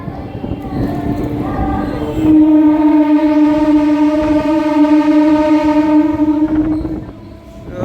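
A MEMU train's horn blares loud and close in one long sustained tone over rumbling rail noise at a station, then cuts off as the engine keeps rolling.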